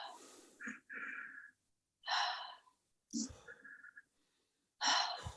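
Slow breathwork: audible inhales through the nose and gentle exhales in a paced two-in, one-out rhythm, close and quiet with silent pauses between breaths.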